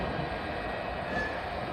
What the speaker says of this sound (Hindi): अपनी गाड़ी प्लेटफॉर्म छोड़ चुकी है।